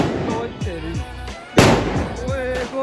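A Diwali firecracker gun loaded with gandhak potash goes off in a street with one sharp, loud bang midway, while people talk over it before and after.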